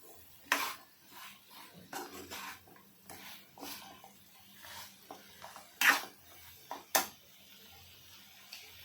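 A spoon stirs drumstick curry after crushed peanuts go in, scraping and knocking against the pot in scattered, uneven strokes, fairly quiet and close.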